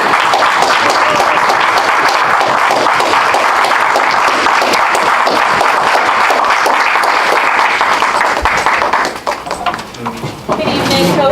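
A poetry-night audience applauds warmly after a Toastmasters introduction, dense sustained clapping that thins out near the end as a voice begins.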